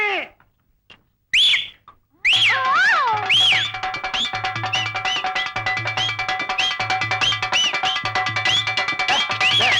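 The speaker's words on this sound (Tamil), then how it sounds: "ஏய் விசில் அடிக்காதடா" A person whistles in sharp, rising and falling bursts over a busy, steady scene that has a rhythmic low thumping beneath it, with a few separate whistles first and then repeated ones.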